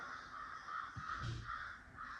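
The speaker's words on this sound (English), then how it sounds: "The two crows that were fighting, the third one stepped in and showed them who's boss." Several crows caw harshly back and forth, fairly close, with overlapping calls and a steady outdoor hiss underneath.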